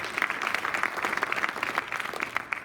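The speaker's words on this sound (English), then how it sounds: "I think that probably deserves the biggest round of applause." Audience applause at a town hall on the VA West Los Angeles draft master plan, dense steady clapping from a crowd filling the whole stretch.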